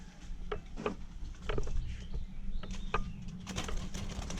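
Soft zebra dove cooing heard faintly amid a steady low background hum, with a few scattered chirps and light rustling.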